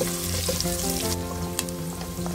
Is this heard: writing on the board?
no